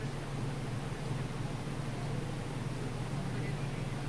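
A newly unboxed electric fan runs steadily, a constant airy whoosh with a low motor hum underneath, close and even for the whole few seconds, with no speech over it.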